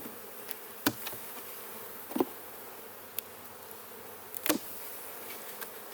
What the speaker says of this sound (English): The more bees in the air, they'll get more nervous.